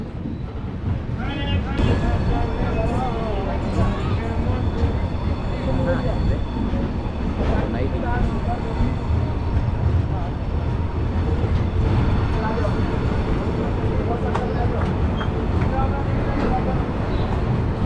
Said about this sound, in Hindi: ट्रेन अपनी पहुंच चुकी है फाइनल डेस्टिनेशन न्यू दिल्ली